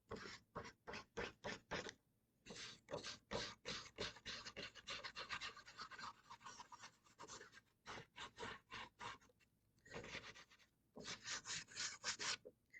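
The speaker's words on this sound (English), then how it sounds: "I'm going to take my finger and try to rub some of the chalk in" Chalk rubbed on paper, close scratchy strokes in quick rhythmic bursts with brief pauses between runs, faint and steady without talk.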